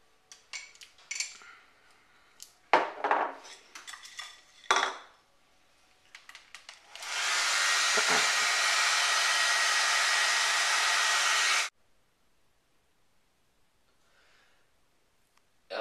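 A handheld hair dryer blows steadily for about five seconds, a loud whooshing roar that starts and stops abruptly, preceded by scattered clinks of cutlery and household objects being handled.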